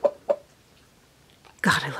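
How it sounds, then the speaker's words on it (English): A rooster gives two short clucks, then a louder longer call near the end, close and clear against a quiet background. "God, I love this rooster."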